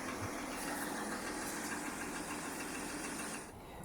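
A broken-down van with a failing alternator idles steadily, a continuous low engine rumble with a faint knocking texture that holds close and even, dipping slightly near the end.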